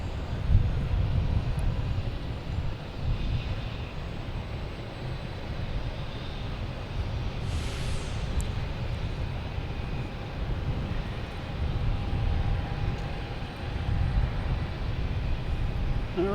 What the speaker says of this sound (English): Virgin Atlantic heading to London Heathrow, an A330-300.